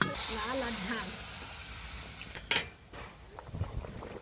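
Water poured into a hot pan of Bengali shilamuri fish curry with fried potatoes hisses and sizzles loudly at the start, fading under a voice, with a sharp clatter midway and some kitchen handling after.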